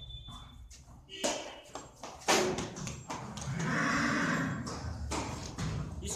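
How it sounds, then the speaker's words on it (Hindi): A tall mare, around 66 inches, moves with hoof clatter and shuffling and lets out whinnies at an outdoor horse showing in Haryana, with steady background noise and people talking nearby. "भाई एक घोड़ी और है गाड़ी नाम की घोड़ी है"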